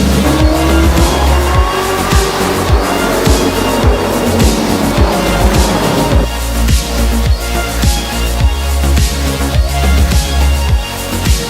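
An Audi R8 engine roars and climbs in pitch, with tire squeal and a rising whine, loud and close throughout.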